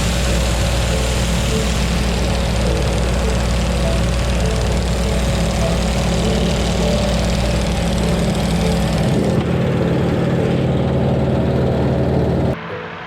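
A CJ6 aircraft's engine roars steadily at full power for a takeoff from a short strip on a hot day in Darlington, Washington, loud and constant with a steady drone before it cuts off abruptly near the end.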